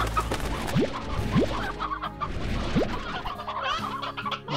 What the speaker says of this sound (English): There's a lot of roosters in here too.